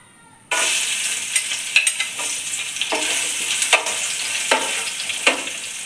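Garlic and mustard seeds fry in hot oil for a chicken curry, making a loud, close, continuous sizzle broken by sharp crackles and stirring scrapes, with no talking.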